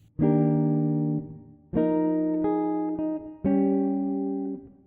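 Three strummed jazz guitar chords from a song ring out one after another, each decaying before the next, in a clean chord-melody phrase with a diminished chord.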